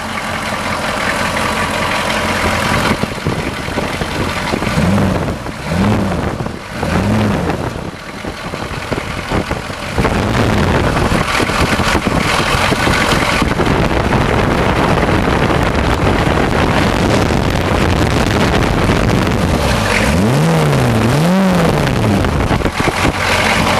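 A diesel truck engine rumbles steadily and loudly, with a few rising and falling revs in bursts, wind noise buffeting throughout.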